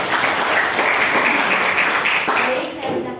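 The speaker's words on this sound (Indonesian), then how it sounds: "Tepuk tangan untuk kelompok 4." Audience applause for a presenting group at a teacher-training session, steady dense clapping throughout, loud and close with a murmur of voices under it.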